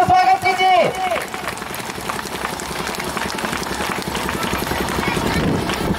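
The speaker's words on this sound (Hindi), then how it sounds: "एक जोरदार ताली से स्वागत कीजिए।" An audience at a school event breaks into dense, continuous clapping right after a short spoken line, and the applause holds steady and fairly loud to the end.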